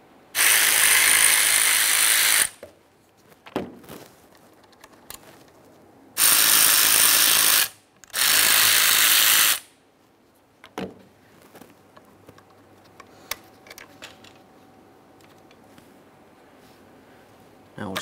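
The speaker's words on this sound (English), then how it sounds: "let's focus on removing this with a 5mm Allen head so we can replace the gasket" Ratchet wrench with a 5mm Allen socket loosening valve cover bolts on a 2007-2013 Acura MDX 3.7L V6, heard as three loud, steady clicking runs of about two seconds each, with quiet handling noises between them.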